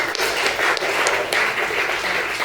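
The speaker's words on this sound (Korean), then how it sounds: "주님께 박수합니다" A church congregation claps together during a Sunday worship service, a dense, even wash of applause filling the room at close range, with no voices over it.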